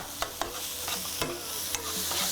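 Sausage sizzles in a hot frying pan while a utensil scrapes and stirs it, with several sharp clacks against the pan over a steady frying hiss.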